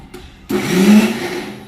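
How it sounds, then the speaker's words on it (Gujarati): A mixer grinder whirs loudly into life, grinding coriander, cumin and Kashmiri chili into a paste; a short motor blip comes first, then a steady, close, sustained grinding roar. "ફરીથી પીસી કાઢવાનું"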